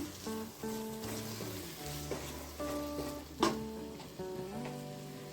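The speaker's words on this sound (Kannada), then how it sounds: "ಎಲ್ಲ ಚೆನ್ನಾಗಿ ಫ್ರೈ ಮಾಡಿಕೊಡುವ" Yogurt frying in egg dum biryani masala in a pan, with a continuous soft sizzle and occasional stirring scrapes under gentle background music.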